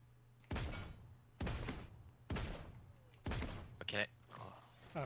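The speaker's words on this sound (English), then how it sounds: "Oh, I'm getting shot at." Shots ring out in the fantasy battle royale Realm Royale, four or five heavy thumping reports spaced roughly a second apart, each with a short decaying tail, followed by a brighter zapping burst, over a steady low hum.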